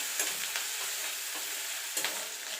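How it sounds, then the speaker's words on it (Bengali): Ginger sizzling gently in a pan, a steady light crackle with a few soft scraping stirs. "এবার এটাকে একটুখানি ভাজা ভাজা করে নেবো"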